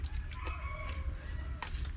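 A chicken crows at a rural Thai home amid steady low rumbling background noise, the drawn-out call moderately distant and partly masked.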